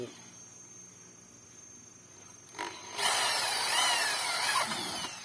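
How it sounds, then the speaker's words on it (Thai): An electric drill bores holes for a homemade sago grinder that will take nails as grinding teeth. A quiet lead-in gives way to a loud, sustained whine from about three seconds on. "เราก็ใช้สว่าน เจาะนะครับ"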